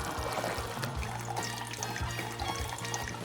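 Water pours from a bottle fitted with a filter gadget into a glass, a continuous close splashing trickle with a steady, slightly pulsing flow throughout.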